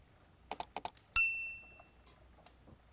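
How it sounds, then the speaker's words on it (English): Side cutters snapping the dial feet off a watch dial during a skeleton watch build: four quick close metallic clicks, then a sharp ringing snap that decays, and a faint later tick, in an otherwise quiet room. "I'll grab my side cutters to twist these feet off"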